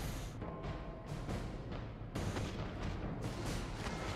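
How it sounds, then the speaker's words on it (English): Crossbowmen fire a volley in the video game Medieval 2 Total War, a loud dense battle soundscape of overlapping thuds and whooshing releases with several sharp surges, continuous and close. "The crossbowmen see these spearmen in their targets and decide to open fire."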